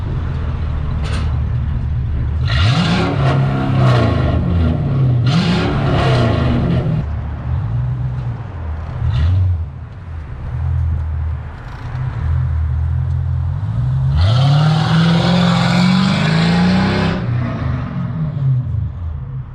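A Mercedes CL500 coupe's 5.0 V8 revs hard from close by in repeated loud bursts, pitch sweeping up and dropping back between blips, with a long sustained climb near the end.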